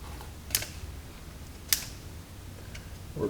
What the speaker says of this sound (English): lesson number 1, pulling these caps out